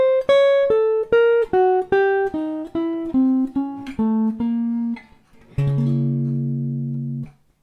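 Electric guitar playing a diminished-scale lick slowly and evenly: about a dozen clean single notes stepping downward in a steady rhythm, closing on a longer ringing note near the end, with no voices.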